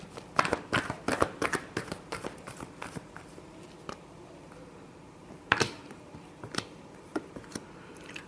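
A tarot deck is shuffled by hand at close range: a run of quick, crisp riffling bursts and soft card slaps, with short pauses between them, fairly quiet.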